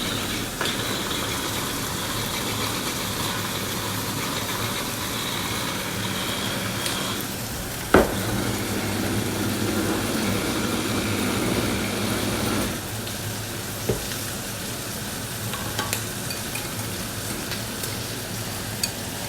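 An electric blender mixes pesto for a chicken dish, with a continuous gritty whirring drone and a few brief knocks and clicks partway through, close and without speech.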